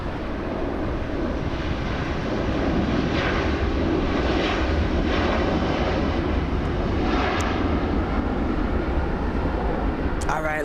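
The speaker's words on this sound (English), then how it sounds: "There goes All Nippon flying back to Japan" An All Nippon Airways Boeing 787 Dreamliner takes off from LAX bound for Japan, its engines a steady, broad jet roar that swells slightly and holds at a distance for several seconds with no talk over it.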